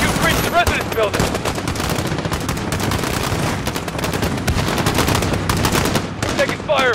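Rapid, continuous automatic gunfire in the Call of Duty: Modern Warfare video game during an embassy assault, dense overlapping shots at near and middle distance, with brief sweeping effects at the edges.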